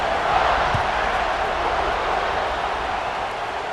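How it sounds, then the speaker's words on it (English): A stadium crowd buzzing in EA Sports College Football 26, a dense steady roar of many voices filling the space, late in the fourth quarter after a score. "this crowd is buzzing after that last score"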